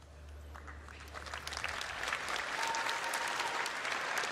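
Applause from a convention audience swells from a faint patter into full, sustained clapping that holds steady to the end, with a low hum fading out early.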